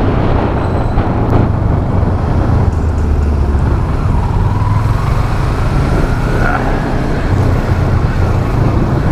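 Road traffic in Batasan, Philippines, heard from a motorcycle in a slow jam. A dense, loud, continuous roar of engines and road noise washes over the rider throughout, with no speech.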